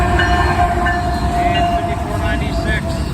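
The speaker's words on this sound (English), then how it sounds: "M361 coming south on 1. This is the train coming from Avon, Indiana." A southbound CSX freight train, M361 out of Avon, Indiana, led by locomotive CSX 802, rumbles past nearby as a steady loud roar with a faint tonal whine, while a person speaks briefly over it.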